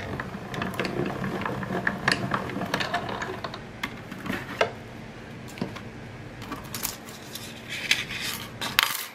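A manual die-cutting machine rolls plates through to cut three cabin dies at once, giving a run of close, uneven mechanical clicks, ratcheting ticks and light metallic knocks with no talk.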